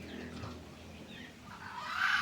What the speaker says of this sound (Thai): นี่คือการเลี้ยงไก่ป่า แบบอนุรักษ์ขยายพันธุ์เพาะพันธุ์ไก่ป่าครับ